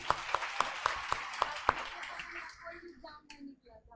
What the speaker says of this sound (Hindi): एक बार इनके लिए जोर से ताली।